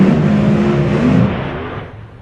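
A Pro Mod drag race car engine roars loud and close during a burnout, a dense sustained blare that then fades away as it pulls off.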